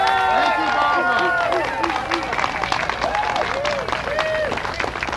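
An outdoor Tea Party rally crowd claps and cheers in a steady loud wash of applause, with voices calling out and chatter mixed through it.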